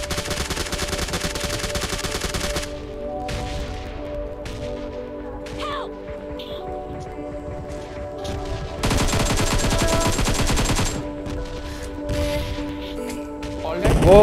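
Rapid automatic gunfire from the PUBG video game crackles in dense, loud bursts, first for a few seconds and again later, with quieter scattered shots and game sounds in between.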